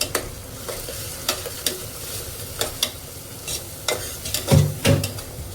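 Spice paste stirred and fried in oil over a high flame, a continuous close sizzle broken by repeated scraping stirs and bumps, growing busier toward the end.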